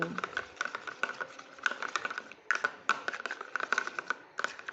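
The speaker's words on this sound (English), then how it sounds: "Now I'm seeing we have to mix it very fast." Homemade face brightening cream being whipped fast in a small bowl, giving quick, uneven clicking and tapping strokes in irregular bursts, close and fairly quiet.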